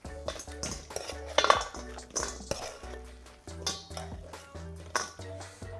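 Roast potatoes being moved from an oven tray into a bowl, with metallic scrapes, clinks and knocks of utensil on tray and bowl, close and intermittent, without talk.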